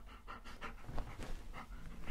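Hugo, a pet dog, pants steadily and fairly close, a rapid rhythmic breathy panting that carries through the whole stretch with no talk.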